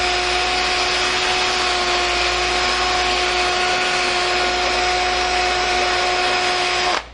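A router table shapes the edges of a board for a five-board bench, giving a loud, steady high-pitched motor whine with strong tonal bands that runs continuously and cuts off abruptly at the end.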